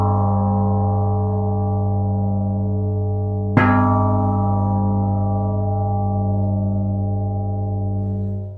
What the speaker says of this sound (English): this gong mallet really hasn't got the heft to get the bronze plate going